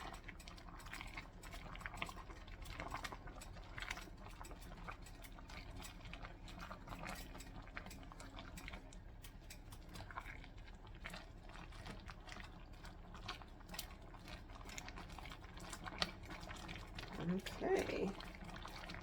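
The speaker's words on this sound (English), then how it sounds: "we will just continue to simmer" Cabbage roll soup with lentils simmers in a pot, giving a soft, continuous bubbling and gurgling at low level that runs throughout, with a voice talking faintly over it.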